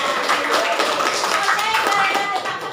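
A classroom of students performs a rhythmic clapping routine together, dense and fairly loud hand claps blending into a steady patter, with voices chanting along over it.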